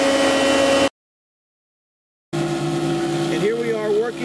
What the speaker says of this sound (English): The CNC machine's working on a motor mounting plate.